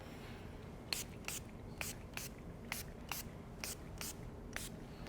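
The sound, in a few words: hydration spray misted onto the face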